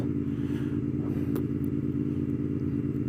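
A motorcycle cruising at an easy, steady pace along a straight residential route with a child aboard, its engine a continuous low drone holding even throughout, close and unbroken, with no voices.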